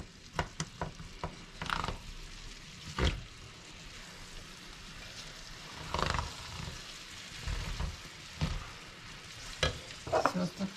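Rice noodles with vegetables, garlic and soy sauce being stir-fried in a pan: repeated scraping stirs and clatter over a steady low sizzle, close and fairly loud, in irregular bursts.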